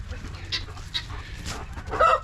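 Chickens cluck in short scattered calls close by, ending with a louder squawking burst, with no talk over them.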